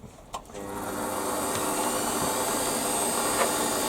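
A toolpost grinder on a Warco lathe takes a 2 mm cut, a sharp click followed by a rising, sustained high-pitched whine and hiss that holds steady and loud close by.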